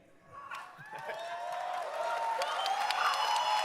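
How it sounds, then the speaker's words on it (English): A large crowd at Gamescom cheers and applauds, the noise swelling from quiet to a loud, steady roar that holds to the end, with shrill whoops and whistles on top. "Wow, what a great crowd."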